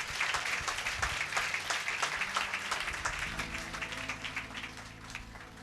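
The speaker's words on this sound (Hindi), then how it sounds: "क्या आप उस व्यक्ति के लिए ताली नहीं बजाएंगे?" A church congregation claps together during a sermon, giving a dense, steady wash of applause that holds at an even level for several seconds with no talking over it.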